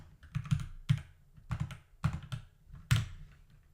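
Keys click on a computer keyboard while entering a formula in a spreadsheet, a handful of quick taps in uneven bursts, close and fairly quiet with no talking.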